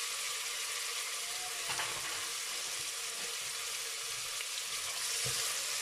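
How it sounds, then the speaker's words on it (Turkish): Onions frying in vegetable oil in a pan, a steady broad sizzle running unbroken throughout with a few soft stirring knocks, close and fairly loud, no voices. "Önce sıvı yağ ile soğanları kavuracağım."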